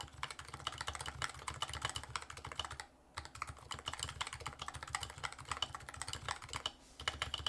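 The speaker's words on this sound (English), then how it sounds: "they are a very unique typing experience. It is slightly tactile, like definitely a kind of tactile" Fast continuous typing on an electro-capacitive (EC) keyboard with a slightly tactile feel, dense muted key clacks in a steady stream with one brief pause, close and alone without speech.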